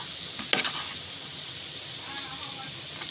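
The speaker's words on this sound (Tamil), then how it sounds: "இந்த எண்ணெயிலே இதை நல்லா வதக்கணும் இந்த மல்லி இந்த மிளகாய் தூள் இதெல்லாம் நல்லா வதக்கணும்" Coriander and chili powder sautéing in hot oil for a Tamil-style fish curry, a steady broadband sizzle with a brief louder clatter of stirring near the start, close and continuous.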